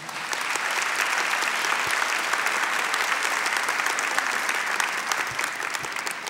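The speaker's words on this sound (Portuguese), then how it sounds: "Vamos aplaudir a palavra do Senhor." A church congregation applauds steadily, dense and continuous clapping filling the space for several seconds without a break, with no voices rising above it.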